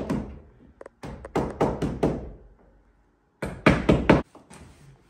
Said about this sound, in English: We gotta knock all these nails over.